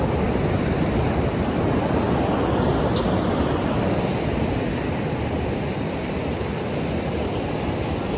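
Ocean surf at Gokarna beach makes a steady, dense wash of noise with no distinct breaks, roaring continuously and evenly throughout.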